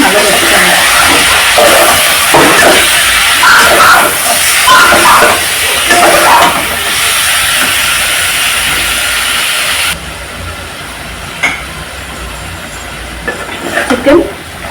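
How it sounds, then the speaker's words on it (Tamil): Chicken pieces sizzle and hiss in hot oil in a pan while Kovai-style chicken kulambu is cooked, a loud continuous frying roar that drops in level partway through, with some clattering stirring toward the end. "சிக்கன் இந்த அளவுக்கு ஃப்ரை ஆனோடனே"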